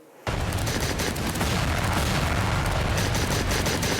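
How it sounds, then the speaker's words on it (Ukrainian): A sudden loud blast opens into a sustained, roaring rush of noise that holds steady for several seconds: a Stinger anti-aircraft missile launch in a video game. "Зенітно-ракетний комплекс Стінгер наводимось, робимо постріл"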